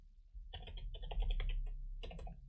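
Quick bursts of keystrokes on a computer keyboard while entering JavaScript code, close and clear, with brief pauses between runs of typing and no voices.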